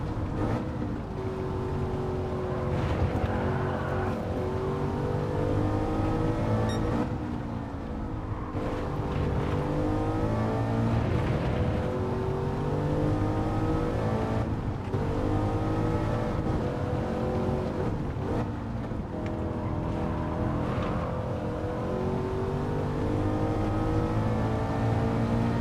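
A V8 race car engine in Gran Turismo 7 drones steadily and loud throughout, rising and falling through gear changes with harmonic revving and brief lifts during lobby racing.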